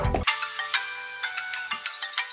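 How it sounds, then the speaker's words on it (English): A phone ringtone plays a short bright melody of repeated electronic tones, fairly close and clear with no talking. "That's my ringtone!"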